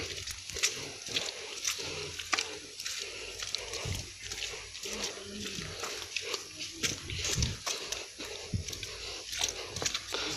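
Pigs grunt and snuffle near their pen by a hut on a muddy farm. The low oinks repeat irregularly at close range amid rustling and footsteps, and people talk now and then nearby.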